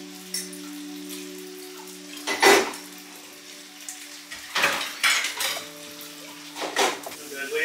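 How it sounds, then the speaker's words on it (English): A frozen burger frying in a kitchen pan, soft steady sizzle beneath a low appliance hum, broken by a few sharp clinks and scrapes of utensils against cookware. "Just cooking my burger."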